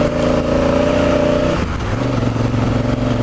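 A Honda Africa Twin adventure motorcycle accelerating on dirt with its rear wheel spinning, its engine loud and close, a rising revving drone that shifts pitch partway through.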